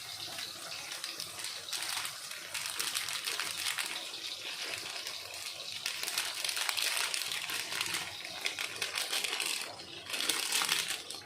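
A small packet of biryani masala being opened and poured for chicken biryani, with close crinkling and rustling of the packet and a continuous sandy pouring hiss throughout, without speech.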